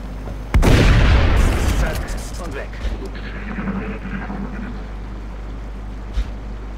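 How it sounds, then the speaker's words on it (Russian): A shotgun blast in the XCOM Long War mod: one loud booming shot with a long rumbling tail fading over several seconds, followed by quieter game effects. "Так, стреляем из дробовика."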